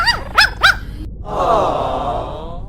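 Puppies barking in three sharp yips in quick succession, then a longer whining, groaning cry that trails off, close and fairly loud with no talk over them.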